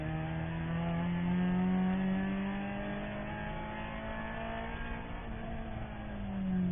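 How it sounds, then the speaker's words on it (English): Onboard engine sound from an endurance race car driving through turn 2 at Circuit of the Americas, a loud sustained drone with shifting pitch as it carries speed through the corner, no voices. "Zach giving us the onboard to Screaming Goat as they come through that turn 2 area"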